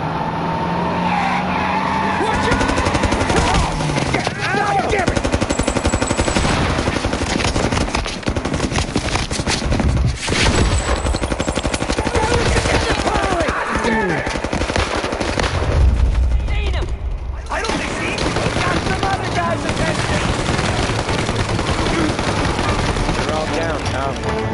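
Gunfire and machine-gun bursts in the video game Mafia Definitive Edition, loud and dense over a busy mix of skidding car engines and game voices, sustained almost throughout.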